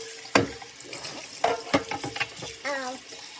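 Parts of a Nama J2 juicer are washed in a sink, giving splashing, running water and clattering plastic pieces in short bursts, close by, with a brief voice over the sounds.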